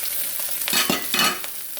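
Chinese sausage, onions and shrimp sizzle in a hot pan while being stir-fried for sticky rice, with steady frying hiss and a few scraping stirs of the spatula, close and fairly loud, no talking.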